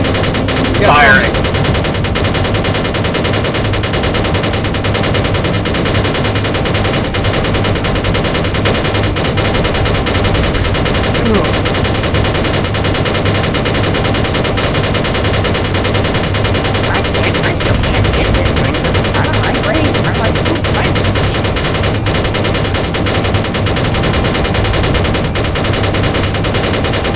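A ship weapon in the space game Space Engineers fires continuously, a dense, loud, unbroken roar of rapid shots that holds steady for the whole stretch.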